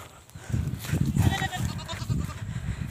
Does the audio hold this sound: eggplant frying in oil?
no